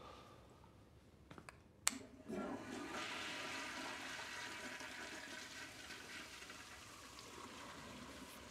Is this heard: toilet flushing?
yes